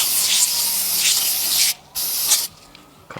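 Brake cleaner is sprayed from an aerosol can onto piston rings during an engine build, loud close hissing bursts: one long spray, a short pause, a second spray, then quiet with a faint tap at the end.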